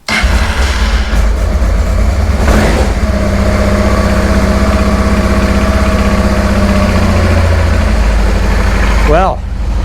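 Honda Transalp 600 (PD06) motorcycle engine turns over on choke and settles into a loud, steady idle close by, with a short stutter near the start and the engine cutting out at the end.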